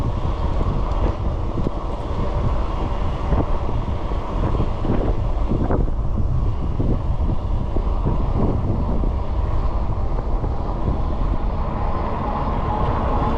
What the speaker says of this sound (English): That's a strong wind I'm riding into.